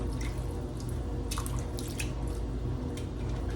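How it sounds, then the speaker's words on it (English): Greens rinsed under running water in a kitchen sink, with a steady close rush of water and scattered drips and splashes throughout. "I'm going to rinse these off just a little bit."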